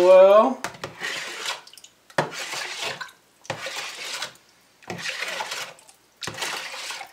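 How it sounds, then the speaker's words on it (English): A mixture is stirred while bottling beer from a 2-gallon Mr Beer kit. Five bursts of wet swishing and clinking come in a steady rhythm, each about a second long and separated by short pauses, opening with a brief tonal squeak, close and fairly loud. "And then we're going to stir it in real well."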